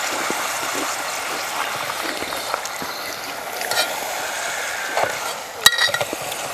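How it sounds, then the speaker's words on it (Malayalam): Pappadam fries in hot oil with a steady, soft hiss and light bubbling throughout. A brief clatter comes near the end, and no one speaks. "ഈ പപ്പടം ഇങ്ങനെ വറുത്ത് വെക്കുന്ന കാണുമ്പോഴേ"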